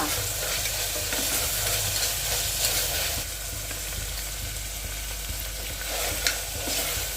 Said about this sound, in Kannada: ಬಟಾಣಿ, ಕ್ಯಾಪ್ಸಿಕಮ್, ಇದೆಲ್ಲ ಒಂದು 2 ನಿಮಿಷ ಫ್ರೈ ಆದ ನಂತರ